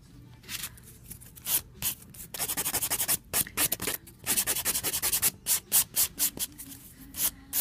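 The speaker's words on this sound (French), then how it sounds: "je viens juste limer un petit peu ma surface" A nail file rubs across a nail surface during a nail art session, producing close, rapid rasping strokes in quick bursts, some short and some longer, with brief pauses between them.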